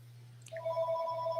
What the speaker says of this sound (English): Sorry about the How phone.